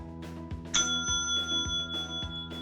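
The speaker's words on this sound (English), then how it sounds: "When you hear the bell," A single bright bell ding, used as a page-turn signal in a read-along audiobook of The Templeton Twins, rings out clearly and lingers over a steady, rhythmic background music bed.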